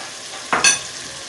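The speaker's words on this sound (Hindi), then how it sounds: "अब मैं इसमें टमाटर और सारे मसाले डाल रही हूँ" Chicken frying in a pan hisses steadily, then a sudden louder burst of sizzling erupts as tomatoes and spices are dropped in, fading back within a moment.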